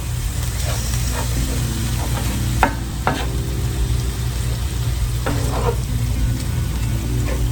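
Ground meat for tacos sizzles and fries steadily in a hot pan, with occasional sharp scraping stirs of a utensil over the constant crackling hiss.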